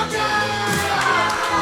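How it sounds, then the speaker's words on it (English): A capacity crowd at an outdoor wrestling show at Todd's Farm in Headland, Alabama gives a loud, sustained ovation of cheers and whoops for a wrestler. "getting a hero's ovation from this capacity crowd here in Headland, Alabama at Todd's Farm"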